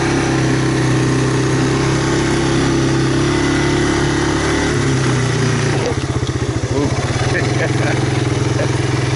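A 1985 Honda Big Red ATC250ES three-wheeler engine runs steadily at close range, then shifts gear and settles into a rough, pulsing low throb, loud throughout with a voice talking over it.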